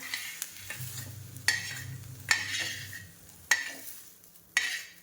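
Spices dry-roasting in a pan as a spatula scrapes through them in four sharp, evenly spaced strokes over a soft, low sizzle, with no talking.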